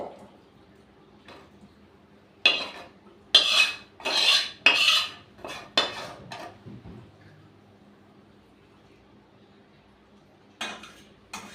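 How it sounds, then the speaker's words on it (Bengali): A metal spoon stirring garam masala through cooking potatoes and peas in a pan, heard as a run of close, loud scraping and clinking strokes in bursts, then quiet, then one more stroke. "এবার গরম মশলা আমি দিয়ে নেড়ে দিচ্ছি"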